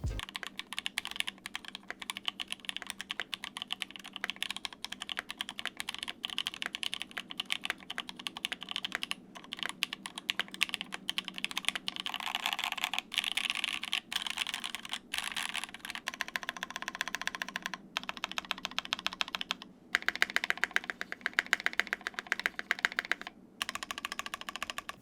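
Steady, rapid typing on a Brutal V2 mechanical keyboard built with no foam, crisp, slightly thin clacks, continuous and close, no voices.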